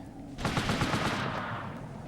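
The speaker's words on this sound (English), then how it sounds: "the machine gunner up there is still going to get us" Rapid burst of machine gun fire in the PlayStation game Army Men: Land, Sea, Air, a dense rattling volley that starts abruptly and fades out after about a second, loud and with no voices.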